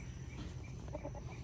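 A few soft, quick clucks from a rooster close by, over a faint background hum.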